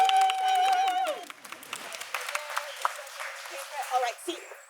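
Applause for the actor playing Antipholus at an outdoor backyard Shakespeare performance of The Comedy of Errors, a crowd clapping at moderate level with scattered cheers, following a voice at the start.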